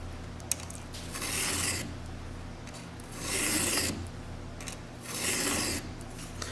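Hand file rasping along a clamped chainsaw chain in a shop, three loud, long strokes with brief pauses between them, close up and without talk.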